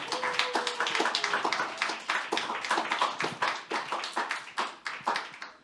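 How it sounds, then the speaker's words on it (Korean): A small youth congregation at a church service claps in a loose, uneven rhythm, with distinct individual hand claps, moderately close and alone without talk. "박수 쳐주기 바랍니다"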